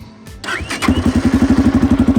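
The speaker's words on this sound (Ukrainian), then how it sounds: "заводимо мотоцикл" A new Kovi ADT motorcycle is cranked and fires up, catching after a brief start and settling into a loud, close, rhythmic idle with regular pulsing thumps.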